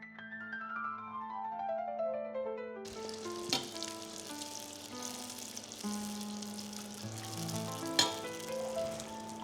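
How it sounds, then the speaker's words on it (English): Italian graffe donuts deep-frying in hot oil, a steady close sizzle and bubbling with a few sharp clinks, continuous and fairly loud with no talk. "You want to make sure that you fry them until they're golden brown."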